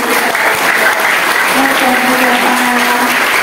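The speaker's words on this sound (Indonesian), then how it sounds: "Tepuk tangan untuk ini." At a public lecture in an Islamic boarding school, the audience gives a loud, continuous round of applause, thick steady clapping with a faint tonal hum threading underneath.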